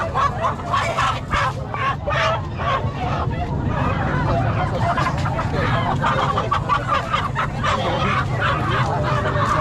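Chickens clucking and crowing amid a dense crowd babble at a large livestock market in San Carlos City, Pangasinan, with vendors calling out over the steady din.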